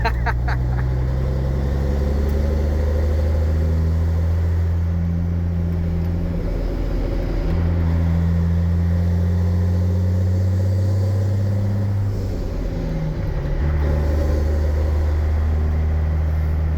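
Straight-piped CAT 3406B diesel in a 1989 Peterbilt 379 truck drones loud and steady from inside the cab, its deep low rumble shifting pitch as the engine pulls, with occasional voices beneath.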